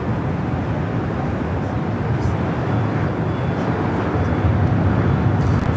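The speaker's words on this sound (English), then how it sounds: "You have Air Canada, Airbus A220-300 arriving under 24 right." Air Canada Airbus A220-300 jet arriving on runway 24 right at LAX, a loud, steady broadband engine roar with low rumble holding throughout, no voices.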